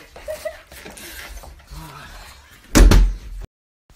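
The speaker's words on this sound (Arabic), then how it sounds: "طيب افتح الباب" A door opened in a home, sounding as one loud, close bang or thump near the end after quieter room noise and faint talk, then silence.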